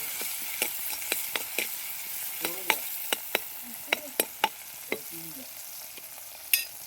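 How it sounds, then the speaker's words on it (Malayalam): Sardine curry masala sautéed in a pan, with soft frying hiss beneath a series of sharp spatula clicks and scrapes spaced about half a second apart. "അപ്പോൾ നമുക്കിത് നന്നായി വഴറ്റിയെടുക്കാം"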